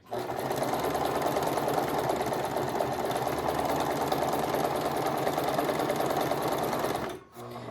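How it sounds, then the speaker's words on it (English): A sewing machine stitches a row in one long, loud, steady run close by, stopping abruptly near the end before a brief restart. "Now I'm getting to the end here of the row that I'm stitching, so I'm gonna stitch all the way to the end"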